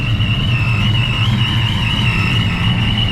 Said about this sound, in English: Let's listen to the supercharger.